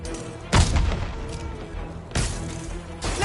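Video game gunfire on PS4: heavy booming shots, three loud blasts spaced about a second and a half apart over a constant rumbling background.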